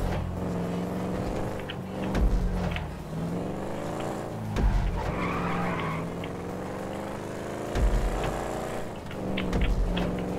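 In GTA V, a race car's engine drones and revs, rising and falling as it skids and spins out, with brief louder surges of scraping and acceleration, close and continuous with no talking.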